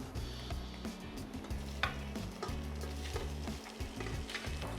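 Carrots and day-old rice sautéing in the oil left from frying garlic and tofu for egg fried rice, a steady close sizzle with repeated stirring scrapes and light utensil ticks.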